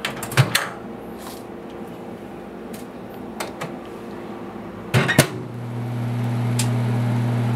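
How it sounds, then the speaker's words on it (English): Several sharp clicks and a door thud, followed by the steady low hum of a microwave oven starting up and running while cooking kale chips. "And now I'm going to just set it in the microwave."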